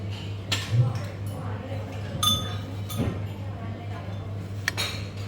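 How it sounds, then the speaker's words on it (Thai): Serving utensils clink against dishes as watermelon is scooped at a hotel breakfast buffet at The Regent Beach Cha-am, giving a few sharp, scattered metallic taps over a steady low hum and faint room murmur. "เราจะตักแตงโมไปกิน"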